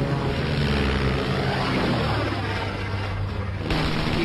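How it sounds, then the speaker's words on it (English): A German triplane's rotary engine drones loud and steady at close range in a WWI dogfight, with a dense, rumbling roar running the whole time and a slight shift near the end. "closely pursued by a silvery blue German triplane at very close range"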